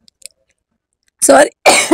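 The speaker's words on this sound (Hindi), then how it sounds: "इस वजह से छींक आई है।" Two loud, close, explosive sneezes after eating spicy pani puri, both bursts arriving near the end and preceded by a few faint clicks.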